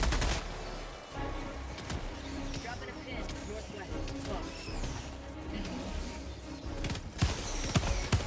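Autocannon fire in Helldivers 2 mixes with other gunfire and explosions in a dense, continuous battle din, with heavier thumping shots near the end.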